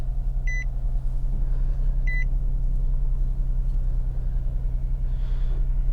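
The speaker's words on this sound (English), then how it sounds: "Push button start. Fires right up, no hesitation." A 2011 Infiniti G37s idling steadily with a low, constant engine hum after a push-button start, two short electronic chimes sounding early on inside the car.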